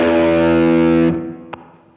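Electric guitar chord through a dual overdrive pedal, thick distorted sustain ringing for about a second before being muted, followed by a faint pick click.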